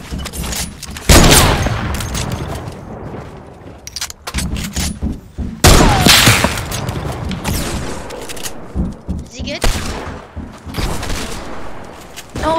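Rapid bursts of gunfire in a shooter video game, loud and close, with several heavy volleys and scattered shots crackling through the whole stretch.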